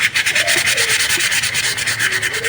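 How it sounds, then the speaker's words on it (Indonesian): Very fine sandpaper rubs back and forth over a machete blade to clear leftover rust-prone residue, producing loud, close, rapid rhythmic scratching strokes with a steady hissing texture. "kita amplas ya"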